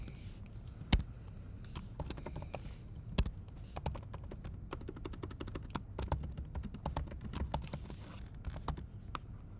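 Typing on a computer keyboard while composing an email, with irregular close clicks and taps running steadily throughout, a few sharper keystrokes standing out, and no talking.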